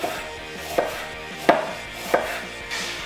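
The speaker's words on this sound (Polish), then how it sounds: "Teraz pora na cebulę, którą kroję tylko w drobne, bo drobne, ale jednak pióreczka." A knife slicing an onion into thin slivers on a cutting board, four distinct sharp chops spaced evenly apart, close and alone with no talk.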